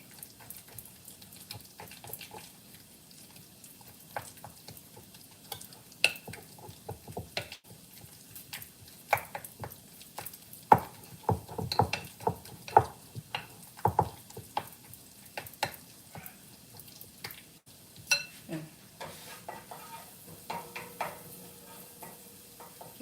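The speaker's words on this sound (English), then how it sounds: "I made it from scratch, so I'm gonna be frying it." Homemade refried beans frying in a pan, a low sizzle under frequent scraping and stirring clicks, irregular and close, with no talking.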